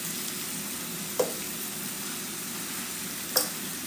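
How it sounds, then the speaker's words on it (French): Seasoned onions go into a small cooking pot and hiss in a constant broad sizzle, with two brief sharp clicks standing out against the steady frying and no one speaking. "Et puis, on va venir maintenant rajouter nos oignons."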